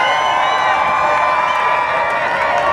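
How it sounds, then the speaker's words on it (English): Steady crowd roar of cheering and whooping in the grandstand at a county fair destruction derby, loud and continuous throughout with no breaks. "Let's cheer him on."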